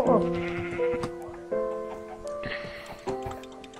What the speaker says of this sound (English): There's a bunch of sheep, and I gotta kill them.